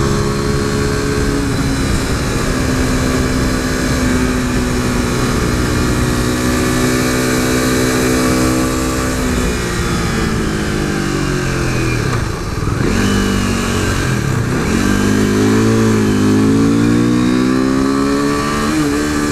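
A modded 2015 KTM RC 390 single-cylinder motorcycle being ridden, its loud engine note climbing through the revs, dipping on shifts or throttle lift around the middle, then pulling hard again, close and continuous with no talk.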